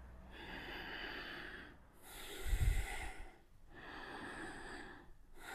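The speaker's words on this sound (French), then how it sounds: "J'inspire, je gonfle. J'expire." Deep breathing during a slow flow exercise routine, a long nasal inhale, a heavier exhale with air rushing, then another inhale, close and soft, with no talk.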